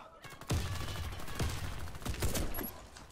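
Calico M955A gunfire in the shooter game Warface: four or five separate, fairly quiet shots spaced irregularly over about three seconds, with no speech.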